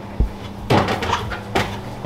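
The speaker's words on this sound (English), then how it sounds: "You just slide it out like that. Open the little doors." A light knock, then two short wooden scrapes and thuds as small doors slide and bump open on a houseboat in Amsterdam, close by with no talking.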